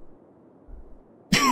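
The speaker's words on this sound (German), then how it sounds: "Entschuldigung, wir husten." A single sharp cough bursts out near the end, after a stretch of quiet room noise with a faint low rumble.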